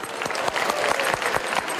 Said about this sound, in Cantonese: 獲得全場掌聲